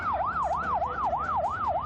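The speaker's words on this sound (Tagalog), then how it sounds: "Ilang saglit pa ay dumating na ang mga ambulansya na siyang nagsugod sa kanila sa East Avenue Medical Center" An ambulance siren wails in a steady rising-and-falling sweep, loud and close, cycling about every third of a second with road rumble beneath, as emergency vehicles arrive at a shooting scene.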